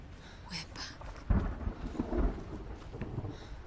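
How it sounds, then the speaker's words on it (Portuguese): Low rumbling thunder at a home during a storm, a broad muffled roll that swells around the middle and lingers faintly, with nobody speaking. "Barulho de trovão"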